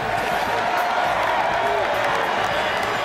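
A huge football crowd cheering at Michigan Stadium, home of the Wolverines, a dense, steady roar filling the whole stretch, with a voice talking over it.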